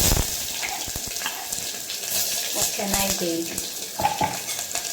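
Onions sizzle in hot oil with mustard seeds, chilies and curry leaves for sambar, a close, steady crackle broken by stirring scrapes and clinks of a pan; a voice speaks briefly.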